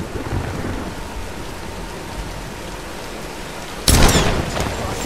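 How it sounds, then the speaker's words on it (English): A thunderstorm in the Tomb Raider video game: steady heavy rain patters throughout, then a loud close thunderclap bursts near the end and rumbles on over the downpour. "let's wait out the storm"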